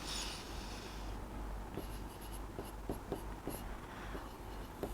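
Handwriting during a maths lesson on circles, soft scratchy pen or chalk strokes in short bursts, quiet and close, with no talking.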